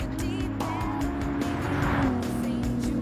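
A Porsche 911 GT1 race car driven in Gran Turismo 7, its engine droning steadily at high revs with a rising and falling pitch and some tire noise, close and continuous, with a voice faintly underneath.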